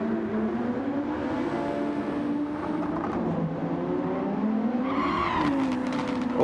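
A Super Formula race car in Gran Turismo 7 sliding as its rear steps out, engine droning steadily at high revs with a rising tyre squeal toward the end, unbroken by talk.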